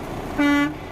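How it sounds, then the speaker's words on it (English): A single loud truck air horn blast, a steady harmonic toot lasting about a quarter second, close by over low engine rumble. "air horn."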